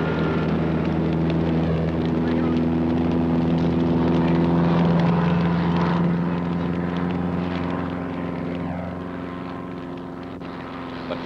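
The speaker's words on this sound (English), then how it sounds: "Roy Sprague is piloting the Piper Super Cub" A Piper Super Cub airplane flying during a stunt, its propeller engine droning with steady tonal harmonics that hold loud and then gradually fade as it moves away.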